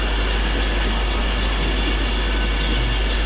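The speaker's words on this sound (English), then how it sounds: "next up is an Avanti West Coast 390 Pendolino" An Avanti West Coast Class 390 Pendolino arrives at Stafford on the West Coast Main Line. A loud, continuous rumble of rolling wheels on rail comes from close by, with a faint squeal above it and a deep low hum underneath.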